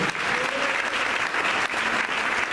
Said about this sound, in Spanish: el pueblo glorifica con esas palmas que glorifican a los reyes.